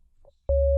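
A steady synthesizer tone built from two sine waves, one very low and one high, switches on abruptly and holds loud and unwavering after a brief faint blip.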